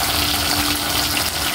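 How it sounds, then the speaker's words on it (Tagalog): Water pours steadily into a cooking pot for bihon noodles, a dense continuous splashing gush, close and loud, with no talk over it. "Lagyan natin ng tubig mga idol, no?"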